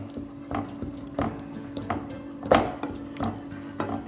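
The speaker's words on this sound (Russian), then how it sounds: "И все это берем, перемешиваем." A spoon stirs tomato sauce with dried basil and salt in a pan, producing soft, repeated scraping and clinking strokes at a steady rhythm, close and fairly quiet, with a faint sizzle underneath and no talking.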